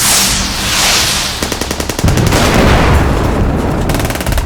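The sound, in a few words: sound effect of turret gunfire in short bursts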